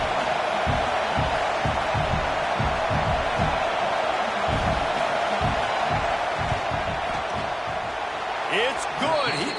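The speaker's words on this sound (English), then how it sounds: "This crowd trying to do its part to get inside the kicker's head." Stadium crowd at a college football game roaring during a field goal attempt, a loud continuous wash of noise with rhythmic thumping, under a commentator's voice.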